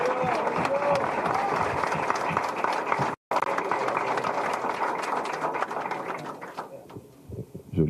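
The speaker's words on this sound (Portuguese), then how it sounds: "Eu quero tomar liberdade de pedir uma salva de palmas para o Júlio Serson" A studio audience on a Brazilian television news program claps steadily in sustained applause, briefly cut off, then continuing before fading out near the end.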